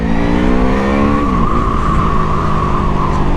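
A QJ SRV 600 motorcycle accelerates hard, its engine note climbing steadily and then shifting into a higher pitch that holds loud and close over roaring wind noise.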